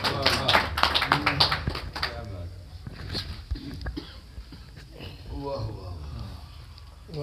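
An audience at a mushaira poetry gathering claps for an arriving poet, a dense burst of applause that thins out into scattered claps and murmurs, with someone talking.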